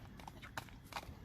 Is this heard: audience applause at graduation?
no